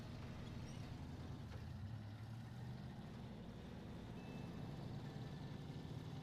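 Truck pulling a trailer in the video game Airborne Empire, a steady low engine rumble that drones on evenly throughout, with a faint higher tone briefly audible over it.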